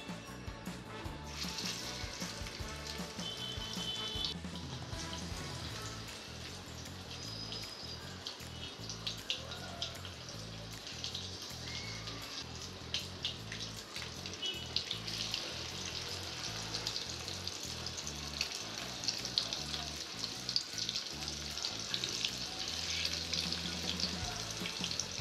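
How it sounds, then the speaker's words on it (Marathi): Semolina-coated surmai (king fish) pieces shallow frying in hot oil over high heat, a continuous bright crackling sizzle that holds steady and close for the whole stretch with no talk. "गरम तेलामध्ये गरम आचेवर शॅलो फ्राय करावे"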